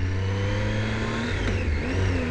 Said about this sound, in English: motorcycle I'm riding, which is a Triumph, 2009 Triumph Street Triple R